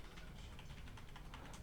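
Brief soft keyboard typing on a computer during a stock financial analysis, a short run of faint key taps under a steady background hiss.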